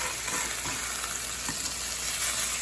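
Venison burgers sear in a hot pan with a dense, even hiss and crackle, close up and steady, marked by a few faint scrapes.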